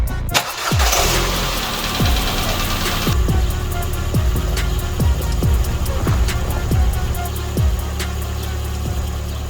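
A Ford Fiesta engine cranks and catches, then settles into a steady, close idle with a repeating rhythmic tick running through the hum.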